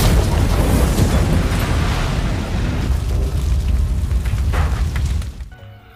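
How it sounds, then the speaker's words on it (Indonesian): A car blows up in a film scene, a loud, deep sustained boom and roaring blast that rumbles for several seconds before cutting off abruptly. "Untuk menghilangkan bukti, Trevor dan Gray lalu memasukkan Anto ke dalam mobil dan meledakkannya seolah-olah terlihat seperti kecelakaan."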